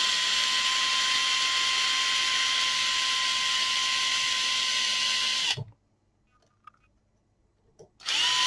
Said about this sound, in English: I will go here with a screwdriver because otherwise it's too long.